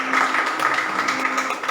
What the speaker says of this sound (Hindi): क्यों ना एक बार जोरदार ताली हो जाए हमारे इस कलीसिया की